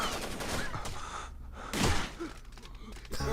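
Bursts of rapid gunfire in Tom Clancy's Rainbow Six: Vegas 2, including a Raging Bull revolver blind-fire kill, loud and close, with a sharp blast near the middle and a brief gasp-like breath among the shots.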